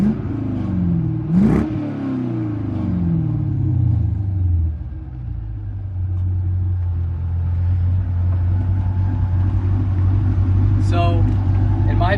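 A C5 Corvette's LS1 5.7L V8 through a Magnaflow axle-back exhaust revs up in a few sharp sweeps, then settles into a steady, loud, deep idle rumble with no talk over it.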